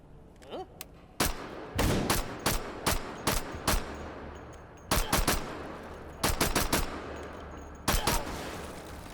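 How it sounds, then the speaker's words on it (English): Bursts of full-auto fire from a Thompson submachine gun, the Chicago typewriter, in a video game, loud rattling volleys repeating in short strings with brief pauses between, over faint background hum. "We'll use the Chicago typewriter for a little while."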